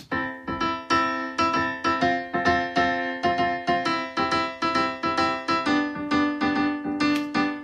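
A bright MIDI xylophone and glockenspiel melody of quick, evenly spaced struck notes, each with a crisp attack and short ring, steady and without any voices.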